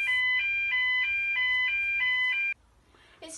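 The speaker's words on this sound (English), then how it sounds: "Who on earth set that fire alarm off?" A fire alarm at a primary school sounds loud and close, a repeating two-tone electronic pattern that cuts off abruptly, followed by brief faint noises.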